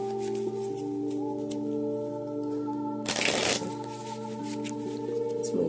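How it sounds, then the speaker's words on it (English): Tarot cards are shuffled in one quick, crisp riffling burst lasting about half a second, set against a steady background of humming tones with no talking. "I heard 6 shuffles for the Father of Coins."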